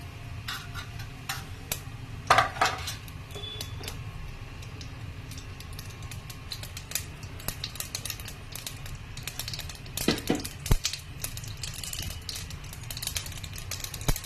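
Half a tablespoon of mustard seeds splutters in hot oil, a scattered run of quick, light pops and crackles, close by and fairly quiet, with a few denser bursts.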